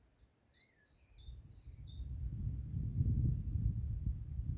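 Out in the Cotswolds countryside, a small bird gives six quick, bright chirps in a row, then falls quiet as a low rumble of wind slowly builds underneath.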